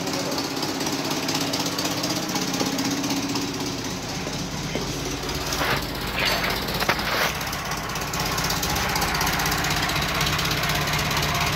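Car engine idling with a slightly leaking exhaust gasket at the flange, a steady close rattling drone with rapid ticking pulses, and a few brief metallic clinks partway through.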